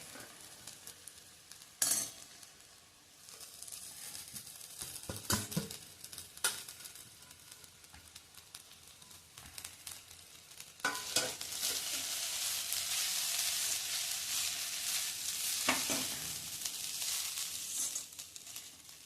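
Crumbled idli being stirred into a hot pan for idli upma, with scraping spoon strokes and intermittent clatter, then a louder sustained sizzle building in the second half, no talking.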